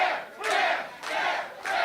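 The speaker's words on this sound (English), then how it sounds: "Crowd firmly behind Bear Bronson" A pro wrestling crowd roars in support of wrestler Bear Bronson, loud and close, swelling in three rolling waves of massed cheering and shouting.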